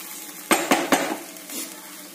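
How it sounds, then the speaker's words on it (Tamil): Fried bread pieces are tossed into chilli masala in a pan: three quick, sharp scraping clatters in a row, then a softer stir, all over a gentle sizzle with no voices. "இப்போ நம்ம கட் பண்ணி வச்சிருக்க வறுத்து வச்ச இந்த பிரெட்டை அதில் போட்டு மசாலால போட்டு மிக்ஸ் பண்ண வேண்டியதான்"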